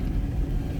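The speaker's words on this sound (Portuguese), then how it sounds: "Rodar um pouco aqui com o carro." A car rolls along a dirt road beside a reservoir, its steady low engine rumble and tire noise filling the moment close and continuous, with no voices.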